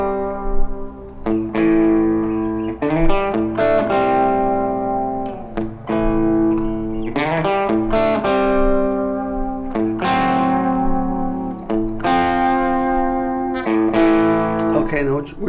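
A distorted electric guitar plays a hard rock riff with sustained power chords and sliding changes in a repeating, loud pattern, alone without talk.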